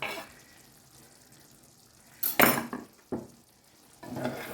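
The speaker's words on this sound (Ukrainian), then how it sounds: "Помішаю." A spoon stirs a pot of stewed zucchini with tomato: a few short, soft scraping and clinking strokes stand out against a quiet background, close by with pauses between them.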